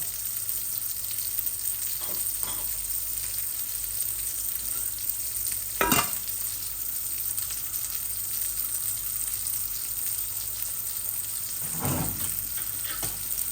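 A vegetable curry with hilsa fish simmers in a pan after a little water is added, giving a steady close sizzle with a few clanks and scrapes of stirring.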